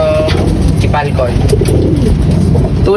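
Racing pigeons coo close by in soft, throaty bursts, with a few overlapping calls and faint background murmur through the short stretch.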